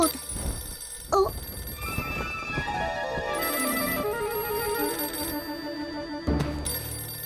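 A telephone rings in the French Oui-Oui cartoon, a loud, steady electronic ringtone of bright repeating tones set against gliding, sweeping musical notes, with no talking over it.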